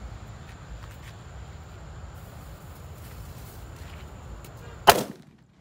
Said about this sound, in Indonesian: Yang pertama ada disco warna ungu, kita nyalakan terlebih dahulu guys.